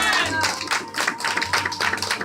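A church congregation applauds during a sermon, giving rhythmic, fairly loud clapping that pulses along in waves with a low musical hum underneath.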